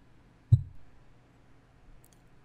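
A single computer mouse click lands sharply early on, followed by a quieter faint click later, in an otherwise near-silent room.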